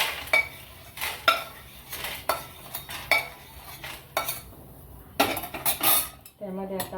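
Roasted chickpeas are scraped and tipped from a pan onto a plate, with uneven metallic clinks, scrapes and rattles, brief quiet gaps and a faint voice in the background.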